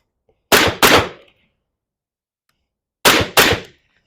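Suppressed rifle firing two controlled pairs outdoors, each a pair of sharp, loud cracks in quick succession, with a pause of about two seconds between the pairs.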